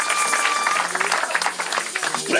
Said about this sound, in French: Est-ce qu'on peut acclamer le Seigneur? En de applaudisseren voor de Heer.